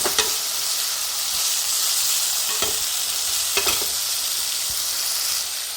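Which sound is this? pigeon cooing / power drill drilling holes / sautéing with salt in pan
sautéing with salt in pan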